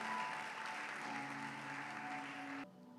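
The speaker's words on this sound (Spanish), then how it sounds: "Alguien dele un fuerte aplauso a la palabra del Señor." Church congregation applauding, a dense continuous roar of clapping heard from within the crowd, steady for under three seconds before it cuts off abruptly.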